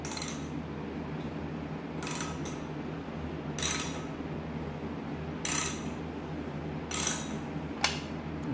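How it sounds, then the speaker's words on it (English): Metallic clicks and ratcheting from a Triumph TR6 engine as the distributor is turned and its pedestal drops into place, several short sharp bursts over a low steady hum, the last a distinct click, no talking. "Once you hear a click, you know the pedestal falls down as well."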